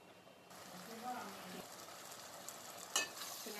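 Onions and tomatoes sautéing in oil in a pan, a soft continuous sizzle with occasional stirring scrapes and one sharper clatter near the end, fairly quiet and close, with no talk.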